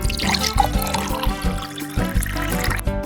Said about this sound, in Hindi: अब हम कुछ पानी डालेंगे।